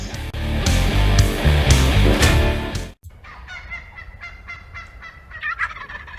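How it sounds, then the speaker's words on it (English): A flock of turkeys gobbles in loud, overlapping bursts that cut off sharply, then fainter, rapid gobbles and calls follow at a distance. "Found some gobbling turkeys."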